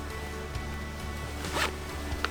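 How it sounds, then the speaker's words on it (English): A small side zip on a Hit-Air motorcycle airbag jacket is pulled, giving a short ripping zipper run up close over a steady low background hum, with a faint click just after. "Little zip on the side here as well."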